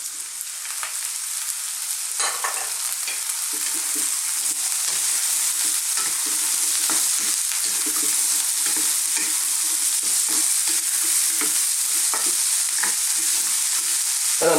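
Chickpeas and mushrooms sizzle steadily in a hot pan over high heat, a dense continuous frying hiss with occasional stirring scrapes and clatters, close and fairly loud, no voices.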